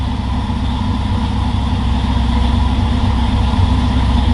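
A 1971 GMC truck fitted with an LS V8 engine and FiTech EFI idles steadily and close by, with a smooth, even low rumble and no break in the sound throughout.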